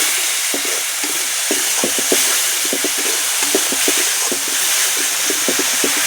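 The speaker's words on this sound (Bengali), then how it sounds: "মশলাটা আবার একটু সুন্দর করে কষিয়ে নেব" Loud continuous sizzling of a spice paste frying in a pan, with frequent scraping and tapping of a spatula stirring it.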